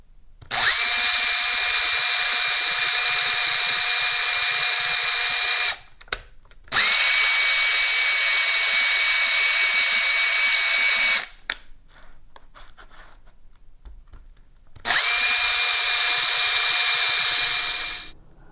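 Power drill tapping threads into wood, running in three long steady high-pitched whining bursts separated by short pauses and a brief quieter stretch, loud and close.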